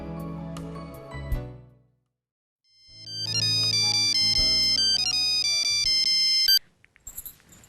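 A phone plays a loud melodic ringtone for an incoming call, with repeating bright tones that stop for a moment, resume at full volume, then cut off abruptly, with no one talking.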